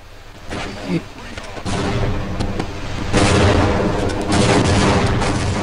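Tank blowing up in the video game Half-Life: Blue Shift, a dense run of loud, close booms and crackling blasts that builds and stays heavy throughout, with no clear talk.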